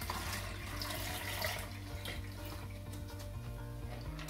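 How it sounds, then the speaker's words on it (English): Rice water poured from a pot into a jug in a home kitchen, a continuous trickling, splashing pour with a faint background hum, close and fairly quiet, no talking. "very carefully, lifting it up, I'm just going to pour it into the jug."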